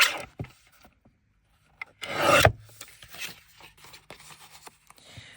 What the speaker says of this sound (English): I'm going to trim this one too